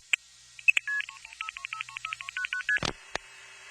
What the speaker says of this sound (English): I had to push a series of buttons, actual physical buttons, to dial the number